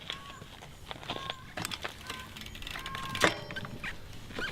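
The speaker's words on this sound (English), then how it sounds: "Just put it roughly in place into the back of the bike, drop the lower chain over and pull your derailleur back to push the chain onto the top," Bicycle rear wheel dropped into the frame while the chain is guided onto the smallest cog by pulling back the derailleur; close, quiet metallic clicks, ratcheting and small knocks, without talk.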